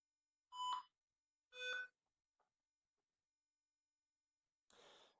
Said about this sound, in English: It made a sound sign that it's turned on